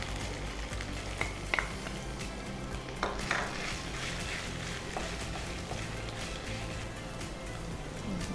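Onions frying in a pan for dal give a steady, close sizzle, broken by a few metallic scrapes and clinks of a spoon against the pan.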